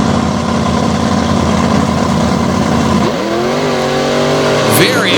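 Monster trucks, including a Bronco and the Wrecking Machine, rev their engines at the starting line of a Lake Erie 2020 show: a loud, steady engine drone that dips, then climbs sharply in pitch near the end.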